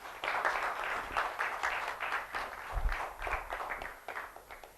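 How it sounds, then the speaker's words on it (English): A crowd at a congress applauds steadily, dense clapping keeping up for several seconds at moderate volume. "So let's clap for Varun."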